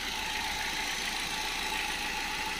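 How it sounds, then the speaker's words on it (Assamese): A Hyundai i20 car engine idles with a smooth, even hum, steady and fairly quiet, with no other sounds. "এয়া ইঞ্জিনৰ চাউণ্ড, ইমান মিঠা চাউণ্ড, ইমান মিহি চাউণ্ড নহয়"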